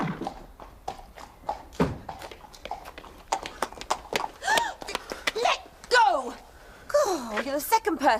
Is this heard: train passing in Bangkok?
no